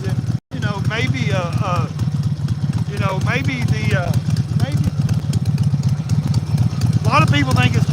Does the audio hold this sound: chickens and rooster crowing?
no